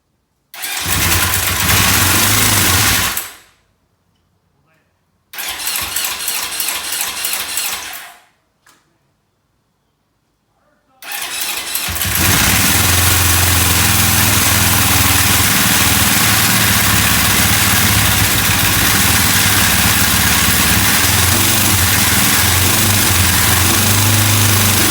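A 1981 Honda CB750 DOHC motorcycle cranks in two loud bursts separated by silence, then fires up and settles into a steady, rough, close idle.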